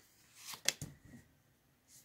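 Tarot cards are shuffled close up in a brief flurry of riffling and flicking, with a couple of sharper snaps near the middle and a soft rustle fading after.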